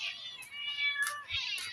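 Several cats meowing at feeding time, quiet and close, with short overlapping mews repeating in quick succession.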